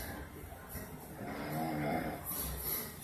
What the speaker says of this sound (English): there's a guy snoring in the jail.